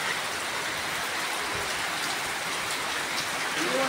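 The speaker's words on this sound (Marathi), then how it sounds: "पंदलीचं पाणी पडतंय" Rainwater pouring from a roof gutter makes a dense, loud, continuous rush and splatter close by, a steady hiss of water hitting the ground below.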